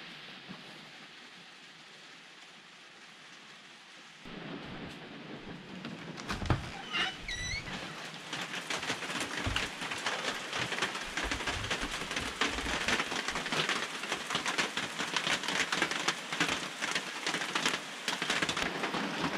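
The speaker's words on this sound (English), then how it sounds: "There's a lot of rain." Heavy rain at an off-grid cabin starts after a quiet, faint stretch, then becomes a loud, steady downpour with dense patter on surfaces that continues to the end.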